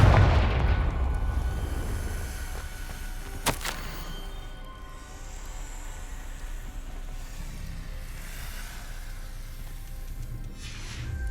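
Confringo fire spell in Hogwarts Legacy, a heavy booming blast at the start that fades into rumble, then a sharp crack a few seconds later, followed by low ambient hum.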